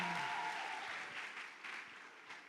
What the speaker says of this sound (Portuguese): Um aplauso aí para eles, cada um que eu chamar, um aplauso aí para eles.